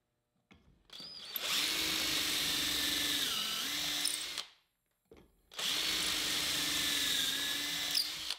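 A drill bores pocket holes through wood using an older pocket hole jig, two sustained high-pitched whirring bursts of about four and three seconds, separated by a short pause, close and clear.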